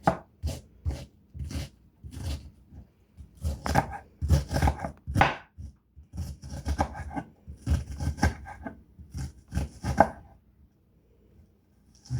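A dull kitchen knife chops potatoes for homemade hash browns on a cutting board, irregular clusters of firm thuds and knocks with short pauses between, close and moderately loud with no talk.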